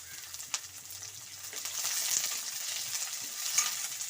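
Chopped onions with almonds fry in a pan, giving a steady close hiss and sizzle with a few soft spoon knocks, no voices, while cooking for a sprouted-gram saaru.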